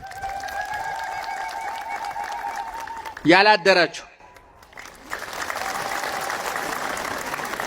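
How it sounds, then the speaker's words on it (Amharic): An audience at an Orthodox Christian gathering bursts into applause after a speaker's short shouted call. Broad, sustained clapping fills the last few seconds. "አቦ ማህሌት ያደራችሁ አጨብጭቡ እስኪ"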